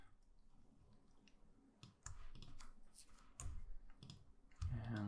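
Crisp computer mouse clicks while selecting objects in Illustrator, a few quiet close taps spaced irregularly over a soft background hum.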